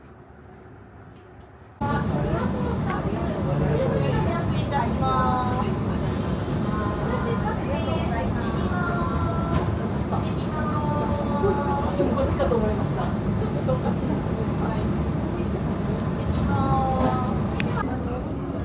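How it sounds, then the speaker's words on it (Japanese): The Rokumon sightseeing train in Japan rumbles steadily from inside the carriage, a constant low drone starting abruptly and continuing, with a voice talking over it. "列車は再び走り出し、"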